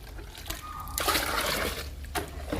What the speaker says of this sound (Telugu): లిక్విడ్ని వాటర్ని బాగా కలుపుకుందాము